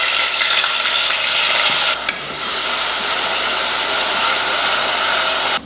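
Onion paste frying in hot oil with cardamom, cinnamon, clove and curry leaves: a loud, continuous close sizzle that stays steady throughout, with a brief dip near the middle.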